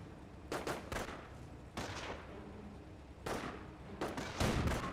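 Bursts of MG42 machine gun fire in the World War II strategy game Company of Heroes, several short rattling volleys separated by pauses with a steady battle rumble beneath, no voices.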